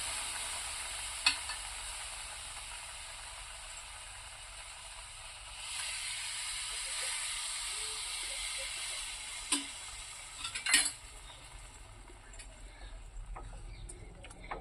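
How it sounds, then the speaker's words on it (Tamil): Semolina and milk being stirred together in a pan, with a soft continuous scraping and swishing and a faint sizzle, plus a few sharp utensil clinks near the end; no voices. "இது மாதிரி நல்லா கலந்து விடலாம், ரெண்டும் மிக்ஸ் ஆகிற மாதிரி"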